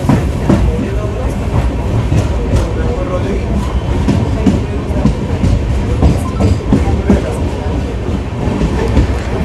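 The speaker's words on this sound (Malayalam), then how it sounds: "ട്രെയിനിൻ്റെ അവസാന സ്റ്റോപ്പായ ആവടി റെയിൽവേ സ്റ്റേഷനിൽ ട്രെയിൻ ഡിപ്പാർട്ട് ചെയ്തിരിക്കുകയാണ്" A Chennai superfast sleeper train pulls away from Avadi station on the Mangaluru–Chennai Central run, with a loud, steady rumble from inside the coach and rhythmic clickety-clack of wheels over rail joints, and faint voices in the background.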